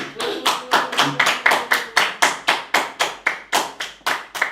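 A congregation at a French-language church service claps in a steady, loud rhythm, about fifteen sharp claps over several seconds, close and continuous.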